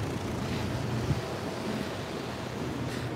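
An old outdoor water fountain gives a steady, fairly faint splashing hiss of falling water with a windy quality, continuous and unbroken, with no voices.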